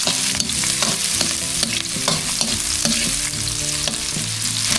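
Aromatics and chilies sizzle and fry in a hot pan with steady crackling and repeated stirring clicks throughout, close and continuous, with no voices.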